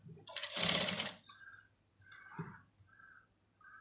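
A sewing machine stitching the lining of a blouse sleeve: one short loud burst of needle chatter, then quiet handling with faint scattered clicks and taps of cloth being adjusted.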